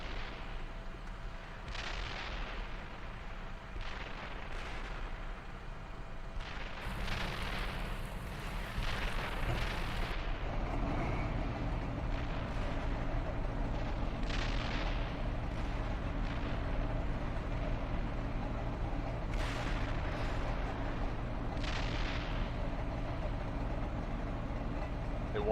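Artillery volleys in the tank simulator Steel Beasts Pro, with repeated muffled booms and rumbling blasts spaced several seconds apart over a constant low engine drone.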